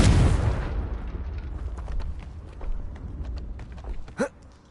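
An explosive spell is cast in the video game Hogwarts Legacy, opening with a loud, broad blast that fades into a low rumble, followed by a brief sharp whoosh near the end.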